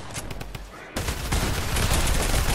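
Rapid bursts of gunfire from gas guns in the Fortnite video game, a dense loud volley that swells after a brief quieter stretch and continues without pause.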